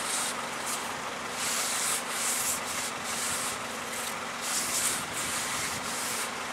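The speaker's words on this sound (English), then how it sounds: "Now use this to wipe down your rotor." Cloth rubbing over a brake rotor from a 2007 Nissan Altima, producing repeated soft swishing strokes of friction noise at a close, moderate level with no talk.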